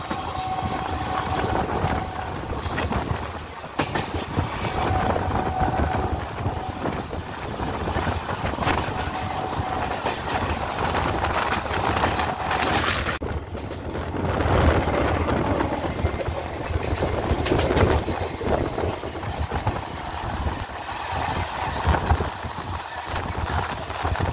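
A local train from Sealdah to Baruipara rumbles steadily along the rails near Bidhannagar Road station, with continuous engine and wheel noise and a brief louder burst midway; no one speaks.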